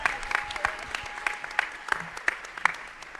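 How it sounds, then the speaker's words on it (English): An audience at an annual arts awards ceremony gives a round of applause, a fairly quiet, spread-out patter of clapping with a few sharp, distinct claps punctuating it at irregular intervals. "Let's give a round of applause to Adrian Huck"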